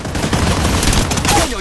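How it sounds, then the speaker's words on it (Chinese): Rapid bursts of gunfire in a mobile shooting video game, loud and dense, with shots cracking in quick succession throughout and a voice faintly mixed in. "真是不知好歹，竟敢朝我开枪"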